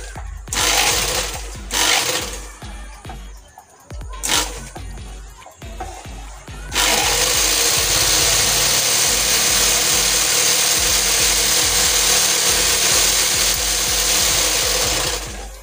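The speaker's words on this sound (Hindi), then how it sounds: "ये देखिए चालू हो चुकी है मोटर हमारी" A sewing machine's newly fitted electric motor spins at full speed, a loud, steady mechanical whir with rattling clatter held close and constant for several seconds, after earlier bursts of short clicks and handling noises.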